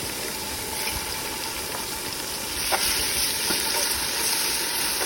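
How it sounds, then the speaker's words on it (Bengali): Spices with ginger paste fry and are stirred in a pan for bhuna khichuri, making a continuous soft sizzle with occasional scraping stirs. The sound stays steady and moderately close, and no one speaks. "সব দিয়ে নাড়া দিয়ে আমি একটু কষাই নিতেছি।"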